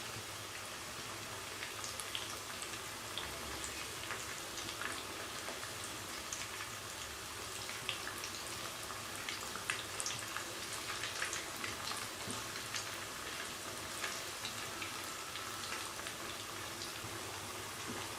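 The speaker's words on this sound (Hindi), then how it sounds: "स्लो आंच पे हम इसको फ्राई करेंगे, ये अंदर तक बहुत अच्छे तरीके से पक जाएगी।" Fish nuggets frying in oil over a low flame, a soft continuous bubbling sizzle with fine scattered pops, fairly quiet and steady the whole time.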